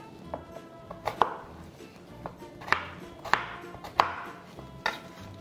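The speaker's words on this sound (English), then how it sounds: "So you have 1 potato. Ika-cut lang natin siya ng cubes." Knife chopping a potato into cubes on a cutting board, a run of crisp, irregular chops with a few sharper knocks, close and alone without talk.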